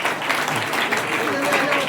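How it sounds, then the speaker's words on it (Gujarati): Audience applause greeting dignitaries at a D B Parekh High School function in Sankheda honouring the 1976 SSC batch, a dense steady wash of clapping with a murmur of voices mixed in throughout. "આપણી સર્વેની સર્વે મહાનુભાવોને તાળીઓના ગડગડાટથી વધાવી લઈશું"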